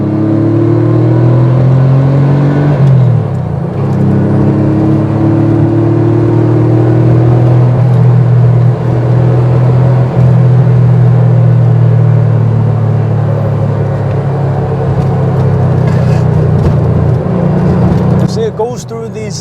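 A Porsche 964 Carrera with a 3.6 liter engine accelerates hard in second gear, its engine note rising steadily into a loud, close rumbling drone over road noise for most of the stretch before easing off near the end.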